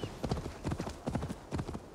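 Horse hooves in Assassin's Creed Valhalla, a brisk rhythmic clip-clop of several quick hoofbeats in repeating groups, fairly close and moderately loud, with faint background talk.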